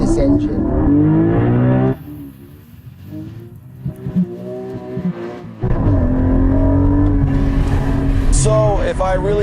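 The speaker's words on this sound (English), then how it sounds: "there's not that much racket coming out of the exhaust. It's more of a metallic noise." Porsche Cayman GT4 engine and exhaust revving up and easing off with a metallic edge, loud and close, swelling, dropping back for a few seconds, then rising again.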